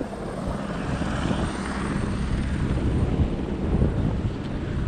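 A helicopter flies near Gosaikunda lake at about 4380 metres in the Himalayas, a steady rumbling drone heard from a distance with wind buffeting the microphone.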